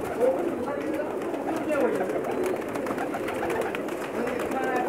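Pakistani pigeons in a large flock in Jeddah, Saudi Arabia, cooing steadily at moderate volume behind continuous talk.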